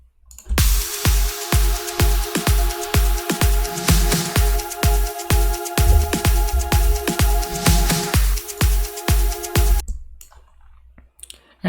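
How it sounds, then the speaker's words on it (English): Drums and effects from an electronic dance track remake made in FL Studio: punchy kicks in a steady driving rhythm with layered clicks and sustained tonal effects, stopping abruptly near the end before a sparse tail. "Drums and effects sounds like this all together."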